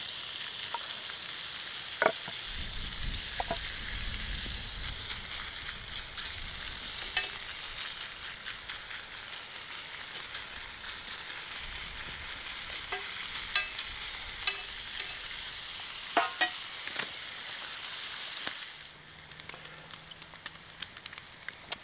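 Pork pieces sizzle in an outdoor skillet over a Trangia camping stove, a steady bright frying hiss with occasional small pops and ticks, easing quieter near the end.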